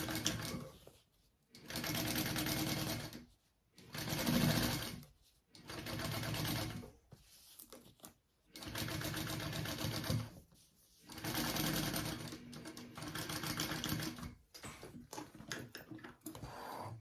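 Sewing machine top stitching a crossbody bag, running in a series of short bursts of rapid mechanical needle clatter separated by brief pauses, close and fairly quiet.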